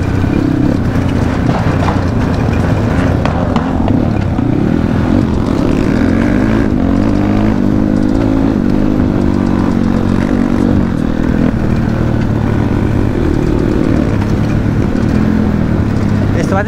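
A dirt bike on a new dirt track roars loudly and close, its engine droning and shifting pitch as it revs up and down continuously, with voices mixed in.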